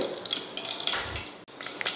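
Dense crackling and sizzling of something frying in hot oil, with a brief gap near the end before the spattering resumes.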